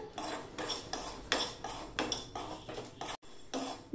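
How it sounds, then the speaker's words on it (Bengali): Jujube (kul) pickle being stirred in a wok, a spoon scraping and clinking against the metal in repeated strokes about every half second, close and fairly loud with a brief pause near the end. "আর ওইদিকে আমি আরেকবার আমি কুলের আচারটা আমি নেড়ে দিলাম।"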